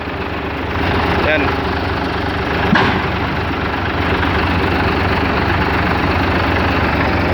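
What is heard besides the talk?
FAW truck 24-valve engine idling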